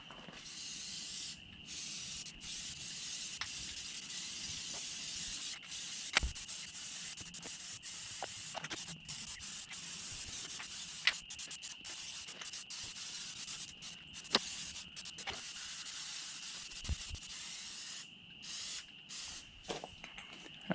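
An aerosol spray can lays a coat of Plasti Dip on a Honda Pioneer 700, a faint, steady hiss running throughout with scattered small ticks and clicks.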